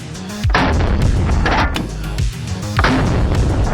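A heavy rifle fires three loud, booming shots about a second apart, each with a long rumbling tail that carries into the next.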